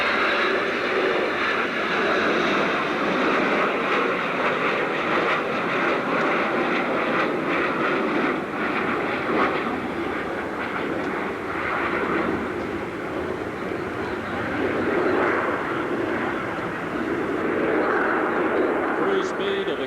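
Concorde jet engines running with reheat at an airshow, a steady, loud, broadband roar that holds throughout with slight swells, with voices faintly mixed underneath.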